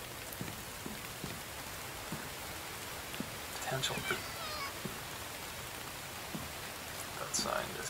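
Steady rain patters on a surface in a video game, a soft continuous hiss with scattered drops, while a voice speaks briefly under it.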